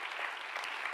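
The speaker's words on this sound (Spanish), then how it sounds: "dele un fuerte aplauso al Señor que vive" A church congregation breaks into brief, dense applause, many hands clapping together at an even level for about a second.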